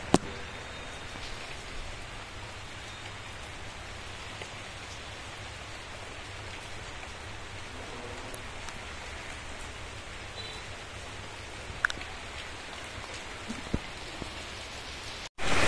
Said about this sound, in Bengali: দেখেন বৃষ্টি যে পড়তেছে তাও আপনার অনেক জোরে পড়ে না